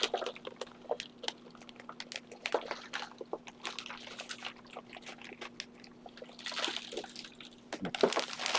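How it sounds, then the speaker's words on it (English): Potting soil is poured into small seed-starting containers, giving soft, gritty rustles and scattered patters close by, irregular and quiet over a faint steady hum. "I'm just going to pour some soil in"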